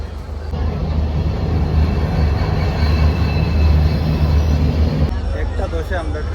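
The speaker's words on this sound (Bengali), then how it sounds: "এখন বাদে আরেকটা এখন ক্রসিং আছে, আরেকটা আইব ট্রেন।" Crossing train passing a waiting train on the Karimganj railway line in Assam, a loud continuous rumble and clatter of carriages that cuts off abruptly near the end, followed by brief voices.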